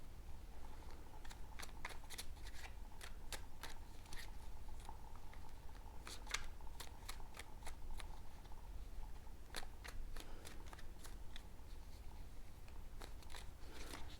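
Tarot cards are shuffled by hand during a card reading, giving quiet, close, irregular snaps and riffling clicks in bursts over a low steady hiss, with no talking.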